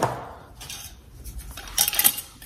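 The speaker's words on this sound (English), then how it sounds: "And the lid goes on." A lid set onto a glass jar of homemade brownie, a few close clinks and a brief twisting scrape, with soft handling noise between.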